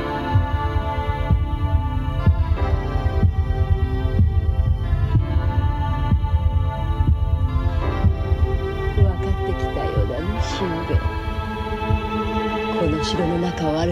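A steady, throbbing heartbeat effect pulses continuously through a 1983 Japanese fantasy film scene set in a castle, low and rhythmic beneath a sustained hum and layered music throughout.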